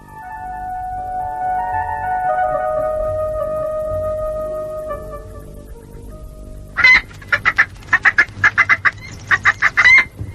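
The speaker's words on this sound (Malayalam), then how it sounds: "കോഴി കൊക്കുന്നത് കേട്ടില്ലേ" In a Malayalam radio drama, a hen clucks in a series of sharp, rhythmic bursts close by, following a long stretch of sustained tonal music.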